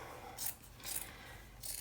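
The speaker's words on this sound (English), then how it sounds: "I'm going to also cut off this bottom because it has this bulky seam" Scissors slice through soft t-shirt fabric being cut into yarn, giving three quiet, rasping snips spaced about half a second apart, close by and faint, with no talk.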